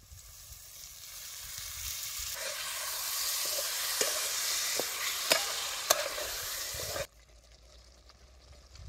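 Yogurt poured into a sizzling spiced small-potato curry cooking over a wood-fired stove, a loud hissing sizzle with sharp crackles that builds and then cuts off abruptly near the end, leaving a quiet low rumble and no voices.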